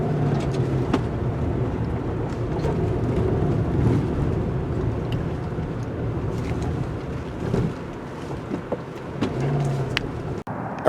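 A 2022 Subaru Outback Wilderness with all-wheel drive drives through deep sand, heard from inside as a steady, rumbling drone of engine and tire noise with occasional knocks and rattles.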